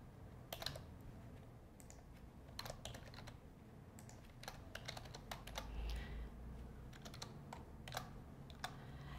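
Typing on a computer keyboard, with quiet clicky keystrokes coming in quick irregular bursts over a faint background hum.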